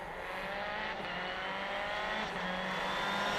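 A rally car at speed in New Zealand's Bay of Plenty rally drones with a steady engine note, easing slightly as the driver briefly lifts off the throttle between gear changes, heard from inside at moderate level.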